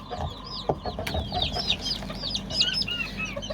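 Newly hatched Gurk chicks chirp in a rapid, continuous stream of high peeping calls, close by, with a few soft clucks and light handling noise underneath.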